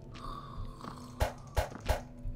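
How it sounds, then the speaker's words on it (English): A sleeping monster in the video game Return to Eldritch 3 makes a low, rumbling snore, followed by three short guttural snorts at regular intervals, fairly faint against a hum of game ambience. "And another snore, snore snore."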